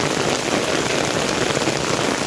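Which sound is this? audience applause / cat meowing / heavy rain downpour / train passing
heavy rain downpour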